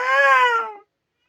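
One short, plaintive cat meow, near and fairly loud, fading out quickly and followed by quiet.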